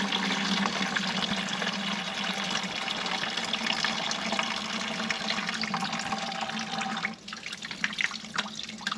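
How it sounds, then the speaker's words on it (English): Coolant drains slowly out of a 2018 Can-Am X3 in a steady, faint trickle that runs the whole time with no talk. "Now it's draining slowly because it's at the wrong angle."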